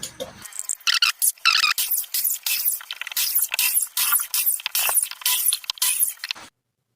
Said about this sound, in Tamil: இந்த ஸ்க்ரூ தான் நம்ம ரிமூவ் பண்ணணும். வாங்க ரிமூவ் பண்ணலாம்